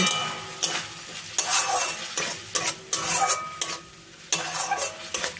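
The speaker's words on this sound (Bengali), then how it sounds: "নুনটা দিয়ে ভালো করে মিশিয়ে নেব" Flat beans tossed with spices and salt in a hot pan, a spatula scraping in repeated strokes about every half second over a steady background sizzle, close and fairly loud, with no voices.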